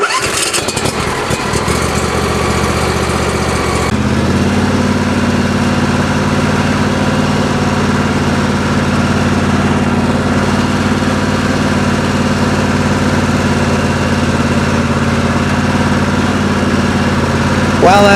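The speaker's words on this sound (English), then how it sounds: "The only 27 horsepower Craftsman LT1000 lawnmower in existence" A 27 horsepower Craftsman LT1000 lawn mower engine runs loud and close, shifting pitch early on, then settles into a steady, unbroken idle rumble for the rest of the time.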